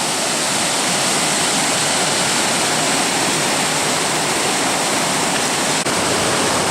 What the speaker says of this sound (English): There goes the waterfall there